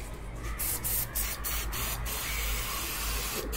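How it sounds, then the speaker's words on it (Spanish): ZX4 penetrating oil sprayed from an aerosol can onto a rusted, damaged suspension part during maintenance: several short, close hissing bursts with brief pauses between them, fairly quiet. "Pues vamos a usar un poquito de afloja todo. ZX4, este es muy bueno."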